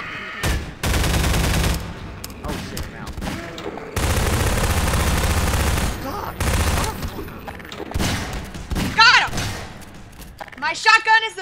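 Several loud, booming bursts of shotgun fire in the Garry's Mod video game, Necrophobia map, come in blocks of heavy blasts, with game noises and brief voices in between.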